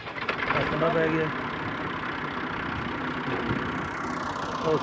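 A tractor engine runs at idle after starting, a steady mid-low drone heard close, with voices talking over it.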